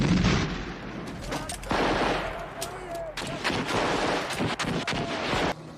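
Film gunfire in a cliffside firefight between Mujahideen fighters and a crew shooting back, with heavy repeated shots, machine-gun bursts and booming reports, loud and close throughout, with brief pauses between volleys.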